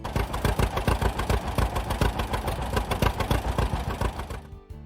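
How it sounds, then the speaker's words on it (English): A John Deere Model A two-cylinder tractor engine, the Johnny Popper, runs with a steady rapid popping beat, loud and close, pulsing evenly for several seconds before fading. "the Model A carried Deere's famous 2-cylinder engine, often called the Johnny Popper for its unmistakable sound"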